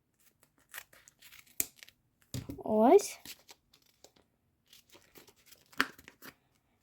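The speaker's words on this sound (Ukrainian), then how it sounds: "Ось ножиці. Я принесла ножиці. Давайте відріжемо." A short burst of scissors snipping through crinkly plastic packaging, with someone talking quietly before and after the cut.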